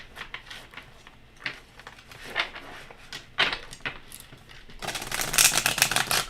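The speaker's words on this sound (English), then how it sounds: "Oh, it's actually quite a stiff shuffle there." A stiff new deck of cards is handled and shuffled close by: scattered taps and flicks give way to a dense, rasping riffle burst toward the end.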